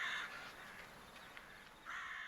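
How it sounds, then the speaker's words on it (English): A raven calls in a tabletop game sound effect, two harsh rasping caws at the start and end with a quiet gap between, faint and played alone. "The raven."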